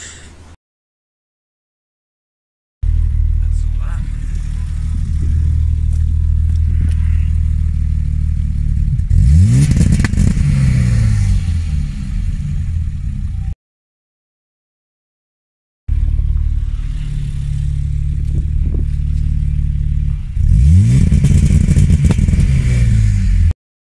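A BMW E30 engine running programmable K-Data engine management idles with a mechanical clatter, then twice climbs sharply in revs and stutters against an ignition-cut rev limiter, with a short break between the two runs.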